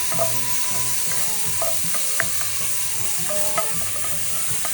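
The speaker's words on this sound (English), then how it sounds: "Toss that up. Burn that garlic up." Garlic sizzles and crackles in a hot pan while being tossed and stirred, with a steady close frying hiss and repeated scraping, clattering stirs on top.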